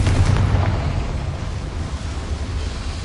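A deep, rumbling blast from the Confringo fire spell in a Hogwarts video game: a heavy boom at the start that rolls into a long, roaring low wash and stays loud throughout.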